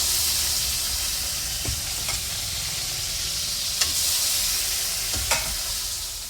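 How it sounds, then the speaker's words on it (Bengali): Fish fry in hot oil with a constant loud sizzle and hiss, broken by a few sharp clinks of a utensil stirring in the pan, with no voices. "তেল গরম হয়ে গেছে। এইভাবে এক এক করে মাছগুলো দিয়ে দিতে হবে পরে।"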